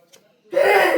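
After a brief quiet intake of breath, one sudden loud sneeze bursts out close by and lingers to the end.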